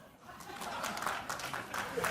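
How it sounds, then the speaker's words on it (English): Brief burst of audience applause from a studio crowd, moderately loud clapping mixed with some murmuring voices, lasting only a couple of seconds. "please applaud."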